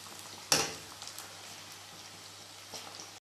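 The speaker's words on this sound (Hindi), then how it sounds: "तड़का रेडी हो रहा है, हमारी प्याज गोल्डन फ्राई हो रही है" Onions sizzle golden in hot oil for a tadka, a faint, steady crackling fry punctuated by one sharp clatter early on and a softer knock near the end.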